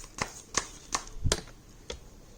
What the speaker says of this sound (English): I'm just going to shuffle it and see what is the card that really wants to pop up.